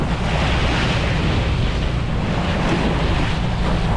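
Ocean waves wash and splash around a fishing boat at sea, a constant, loud roar of water and wind rumble filling the whole stretch with no break and no voices.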